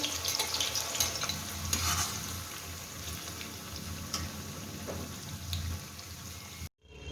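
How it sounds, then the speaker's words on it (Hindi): Onions sizzle and crackle steadily in hot oil for chicken haleem, a continuous close frying hiss with occasional pops and stirring, ending in a sudden brief cut. "इसमें मैं अब प्याज फ्राई करूँगी।"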